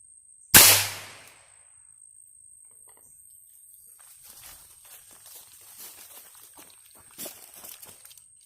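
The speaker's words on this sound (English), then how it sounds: "we're going to test the 22 long rifle against the cantaloupe." A single sharp .22 Long Rifle shot fired into a cantaloupe cracks out once near the start, followed by quiet outdoor ambience and light movement sounds.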